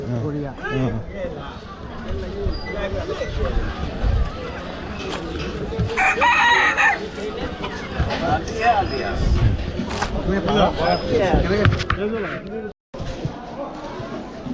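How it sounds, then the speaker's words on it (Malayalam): Chickens at a market crow and cluck repeatedly amid a busy, noisy crowd, with people talking loudly throughout and a crowing call standing out midway. "കോഴികൾ"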